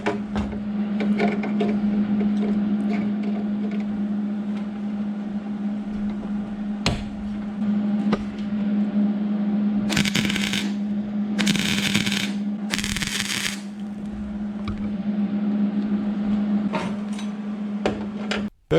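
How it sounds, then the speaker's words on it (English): Plug welding on the rocker panel of a Mercury Sable station wagon, with three short, harsh crackling bursts in quick succession over a steady electrical hum and scattered clicks. "now we're going to move back down below and do another one of these small plug welds"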